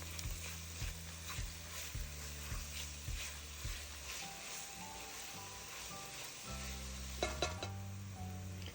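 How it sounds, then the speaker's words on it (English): Chopped garlic and shallots sizzle in melted butter in a pan. A steady crackling fry runs throughout, under a rhythmic mechanical clicking and hum. "I'm going to add the chopped garlic and shallots and cook these until they're translucent"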